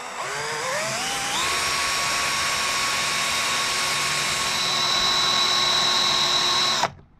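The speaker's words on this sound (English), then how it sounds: "Little centre drill." A small centre drill bores into Triumph T140 handlebar switchgear with a loud, steady metallic whine that rises as it bites, holds for several seconds, then stops abruptly.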